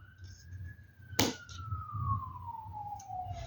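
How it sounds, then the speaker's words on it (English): An emergency siren outside sounds a single long wail that slowly glides downward in pitch, moderately distant under low room rumble, with a sharp click partway through. "there's a siren outside."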